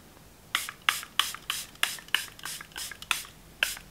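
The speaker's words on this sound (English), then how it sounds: "I will just spray this all over my face" Rapid short hissing bursts of a Charlotte Tilbury setting spray misting onto a face, about ten quick pumps in an irregular rhythm, close and fairly soft, with no talking.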